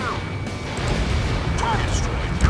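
Explosion in Ace Combat 7 as a target is destroyed during a pipeline destruction mission, a heavy rumbling blast with crashing debris that builds and swells toward the end, over continuous background game noise.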